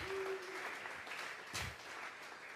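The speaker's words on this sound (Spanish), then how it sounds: "Vamos a regalarle ofrenda de palmas al Dios de la gloria" Church congregation clapping during a Sunday worship service, a steady wash of applause with a brief louder burst midway, moderately distant and continuous.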